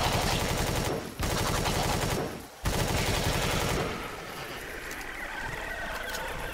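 Sustained automatic gunfire from the space survival game Empyrion, a dense, loud, continuous rattle with two brief pauses, then fading into a quieter hum of game ambience.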